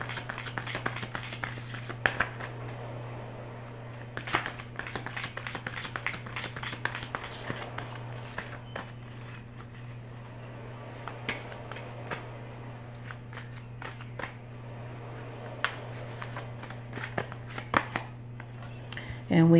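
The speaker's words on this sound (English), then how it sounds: "All right, so I'm going to use the psychic tarot to get three more cards here." Tarot cards being shuffled by hand, a run of soft riffling flicks and papery slaps at close range over a steady low hum, with a voice talking now and then.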